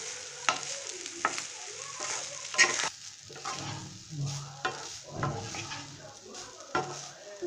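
Cooked rice with a little sugar being stir-fried in a pan for homemade chicken fried rice: steady sizzling with repeated scraping and clanking strokes of a spatula, close by.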